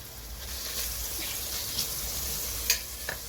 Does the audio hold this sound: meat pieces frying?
yes